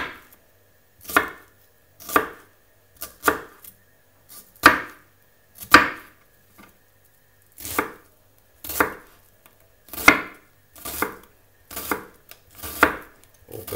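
A knife chops a white onion into coarse dice on a board, each stroke a crisp knock. The strokes come singly or in pairs, roughly one per second, with silence between them.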